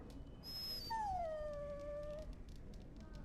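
A dog in the video game Dragon Age Origins gives a high, drawn-out whimpering whine that falls in pitch. It is heard alone and fairly close over a quiet background hum.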